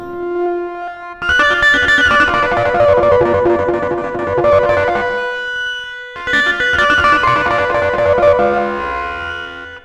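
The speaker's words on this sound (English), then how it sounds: "You get some really nice screaming effects using this tube drive." A clavinet played through wah-wah and tube drive distortion gives loud, buzzy, screaming chords in two long sustained phrases with a brief gap between them.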